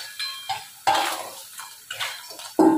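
Boiled potato and hard lentil dumplings go into a curry pot, with a handful of sharp metallic clinks and clatters of utensil against pot, close and intermittent.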